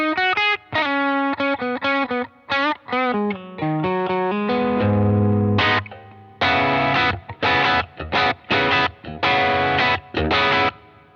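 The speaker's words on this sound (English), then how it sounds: "If I want to kind of just get a little bit more gain out of my bass sound, I might kick it in." Bass guitar played through a Halcyon overdrive pedal, clean at first and then with the pedal kicked in for gritty gain, a run of plucked notes and short phrases with brief gaps, loud and alone.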